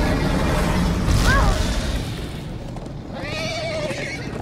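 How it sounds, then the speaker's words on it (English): Horses neigh twice in the Minecraft: Story Mode video game, loud rising and falling whinnies heard over a dense, rumbling game soundtrack. "Oh. Horses!"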